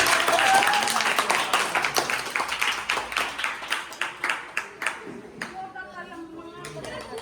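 A group applauds a teacher at an Engineers Day celebration, starting as dense clapping that thins into slower, distinct claps, then fades, with faint voices near the end.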